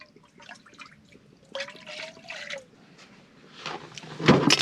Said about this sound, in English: So all I'm going to do is add some water.